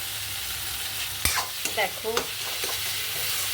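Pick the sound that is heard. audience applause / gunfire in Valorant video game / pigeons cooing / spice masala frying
spice masala frying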